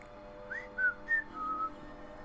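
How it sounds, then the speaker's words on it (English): A person whistles a short, soft tune alone, with a few quick rising notes followed by a longer held tone, quiet and close. "I probably shouldn't whistle. Whistling probably sounds terrible on the stream."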